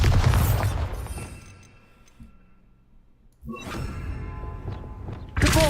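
The Bombarda explosion spell in Hogwarts Legacy: a heavy booming blast at the start, then a quieter stretch, a second loud burst with lingering rumble, and a final sharp hit at the end.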